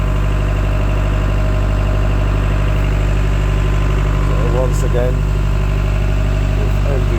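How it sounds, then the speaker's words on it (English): Gas engine on a Bitelli BB642 screed idling at a steady, loud, even drone with constant low rumble and vibration throughout, while someone talks briefly over it. "with engine running."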